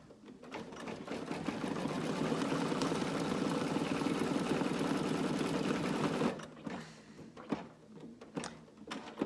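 An embroidery machine stitches small circles into a fabric mask with a steady, fast mechanical whir for about six seconds. It then stops, leaving a few light clicks and handling noises.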